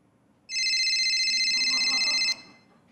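A synthetic telephone ring tone sounds once, a loud, bright warbling electronic trill lasting nearly two seconds, then cuts off abruptly into quiet.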